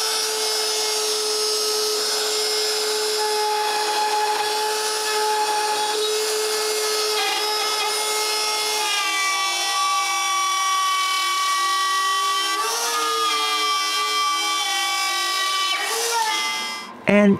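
Power tool cutting a circle in wood for a small vacuum cyclone, a sustained high whine with strong steady harmonics that shifts pitch slightly partway through, loud and continuous before cutting off at the end.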